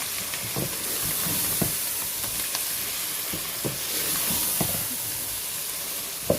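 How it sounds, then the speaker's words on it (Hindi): Potatoes and peas frying in a pan give a constant close hiss and sizzle, with scattered soft stirring taps and knocks breaking through the steady frying noise. "आलू डाल दिए हमने और ये मटर डाल दिए। इसको थोड़ा सा मुझे भूनना है।"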